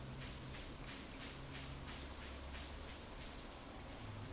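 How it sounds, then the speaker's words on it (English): Steady, dense rain in the video game Stardew Valley patters continuously on a surface, a soft even hiss with no pauses and no voices. "it's raining"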